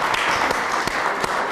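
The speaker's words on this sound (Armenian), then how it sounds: "Դե ծափարենք մեր մեծ երաժշտին։" An audience applauds a musician with dense, steady clapping that runs throughout, fairly close and full, with a few sharper individual claps standing out.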